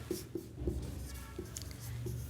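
Pen writing a line on paper while drafting a deed, heard as soft scratchy strokes with a few light taps, close and faint, alone without talk.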